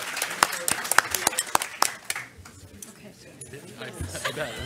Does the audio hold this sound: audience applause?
yes